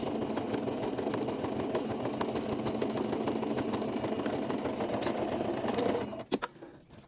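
A sewing machine stitching three layers of fabric together runs in a fast, steady mechanical whir, close and continuous, then stops with a few clicks at the end.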